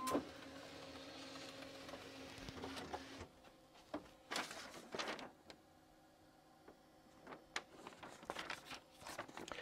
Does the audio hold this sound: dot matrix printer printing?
yes